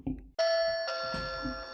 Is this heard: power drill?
no